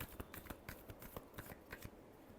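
Tarot cards being shuffled, a run of quick papery riffles and flicks in an uneven rhythm, close and fairly faint, with no voices.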